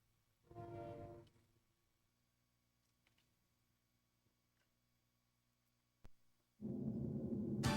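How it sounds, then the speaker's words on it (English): A train in a 1993 LaserActive laser disc game rumbles in two bursts, a low droning swell early on and a louder sustained roar near the end, separated by near silence with faint ticks. "You can hear the train, ignore it."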